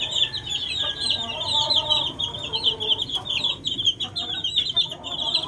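A brood of chicks peeps continuously in high, shrill chirps, joined by lower clucking from poultry, close and busy throughout.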